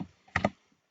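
Two or three quick, soft keystrokes on a computer keyboard, close and quiet, with no talking.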